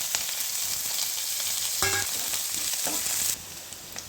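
Tempering spices, green chillies, onion and curry leaves crackle in hot oil for a bottle gourd curry, a close, dense sizzle with a few sharp pops. The frying noise drops off abruptly near the end, with no voices.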